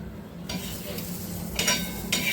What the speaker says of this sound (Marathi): तेल टाकून भाजायचं चांगलं कडक होईपर्यंत भाजायचं